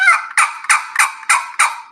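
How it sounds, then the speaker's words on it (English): A wooden turkey box call plays a hen yelp, six evenly spaced raspy yelping notes in a quick rhythm, loud and close with no talking. "starting with a box call and learning the basic,"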